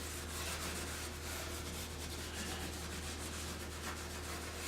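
Steel wool dipped in chemical stripper rubs over the finish of an ebony Zenith 6S27 radio cabinet, giving a steady, close scrubbing hiss that runs without a break.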